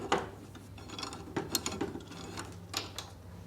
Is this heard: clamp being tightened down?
yes